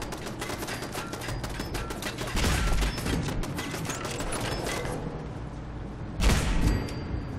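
Rapid bursts of automatic turret gunfire in Fallout 4 rattle continuously with a couple of heavier booming impacts, loud and dense throughout.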